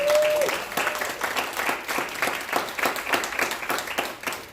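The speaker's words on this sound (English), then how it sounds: "would y'all just give these ladies a applause?" An audience at a cancer symposium claps for the trainers, a moderate round of hand clapping with a brief tone at the start and the clapping thinning toward the end.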